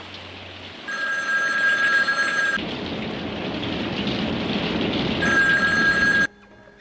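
An old telephone bell rings in a film scene, two loud sustained bursts separated by a pause, with steady rain-like hiss and rumble running underneath throughout.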